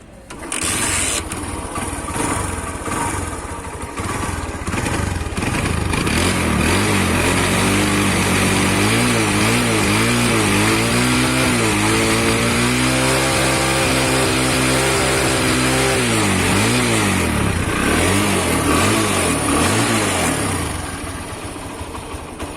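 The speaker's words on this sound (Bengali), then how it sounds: "বাইকটি স্টার্ট করে সাউন্ড কোয়ালিটি আমি আপনাদের একটু শোনাই বাইকটি স্টার্ট করি" A FREEDOM Prima 125 cc motorcycle is started and then idles loudly and close by, its engine revving up and down in waves before it settles back to a steady putter.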